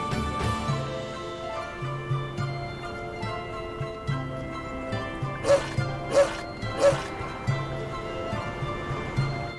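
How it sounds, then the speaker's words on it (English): A video game dog barks three times in a row, sharp and fairly close, over steady game music and ambience; soft yips and whimpers may sit in the mix. "Saray, there's a dog here. Oh, hi, doggy"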